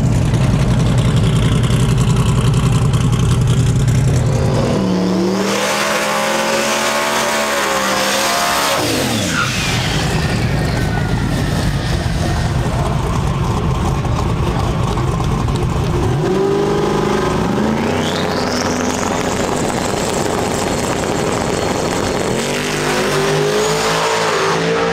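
Street car class drag race cars running the finals, with loud engines revving and accelerating hard through repeated gear-change sweeps, near and continuous throughout, with brief tire squeal and no talk.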